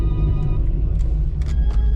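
A Chevrolet Camaro ZL1 engine rumbles steadily and deeply from inside the car during a drive, with a low, constant exhaust drone and some faint cabin noises.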